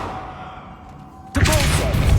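A Revelio spell cast in Hogwarts Legacy bursts in suddenly as a loud, bright whooshing shimmer with a rising swell, following a quieter stretch of low game ambience.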